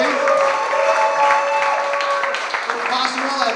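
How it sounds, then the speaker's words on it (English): Applause from the audience at a stand-up comedy roadshow in Nicosia, steady clapping that fills the room, with cheering and a voice talking over it. "One more round of applause for Cyprys Comedy Central, please."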